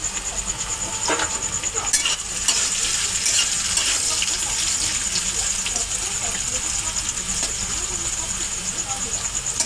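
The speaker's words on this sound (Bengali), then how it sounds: "গাজরটাকে ভেজে নেবো।" Carrots frying in a pan with a little salt give a steady hiss and sizzle, with a few sharp clinks and scrapes near the start, while faint voices murmur underneath.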